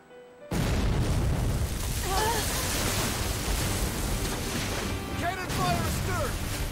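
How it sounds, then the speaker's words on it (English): Cannon fire from a pirate ship in Tales of Berseria at sea: a sudden loud boom kicks in and rolls into a sustained roar of blasts with ocean surge, while game voices call out over the din. "Cannon fire astern! Pirates!"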